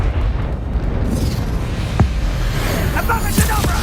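A Bombarda explosion spell from the Hogwarts Legacy video game booms with low, rumbling blasts and a few sharp cracks over a steady background roar, fairly loud and close.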